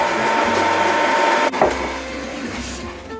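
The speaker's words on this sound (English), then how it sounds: "mix it all together on a low speed" An electric mixer beats cake batter on low speed with a close, steady motorized whir. A brief clunk midway shifts the tone before the whirring carries on.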